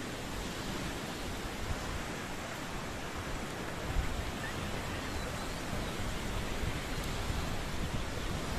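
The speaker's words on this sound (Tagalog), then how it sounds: "Malaki ang mga alon, guys." Big ocean waves and surf at a resort beach where people are surfing, a continuous broadband wash of breaking water with a slight swell midway, steady and fairly distant, with no voices.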